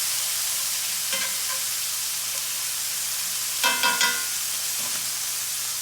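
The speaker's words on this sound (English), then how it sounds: "I'm going to break these tomatoes up" Tomatoes being broken up with spicy Thai chili and capers in an iron skillet, a steady sizzle with a few sharp scraping, clacking knocks of a utensil against the pan.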